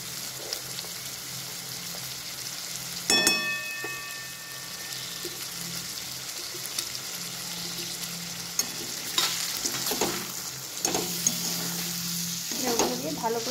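Ground turmeric, chili powder and salt frying with chicken in a Bihari-style curry give a steady close sizzle, with scraping stirs and a sharp clatter of the spoon around three seconds and further stirring knocks near the end.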